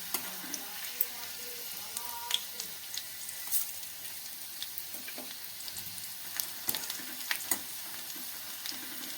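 Bitter gourd half-frying in a pan, a continuous close sizzle broken by stirring clinks and scrapes of a spatula at irregular moments.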